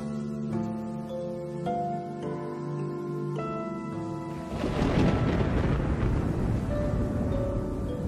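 A thunderstorm brews in the wild as a deep rumble of distant thunder swells over steady rain-like noise after a soft held musical chord fades out.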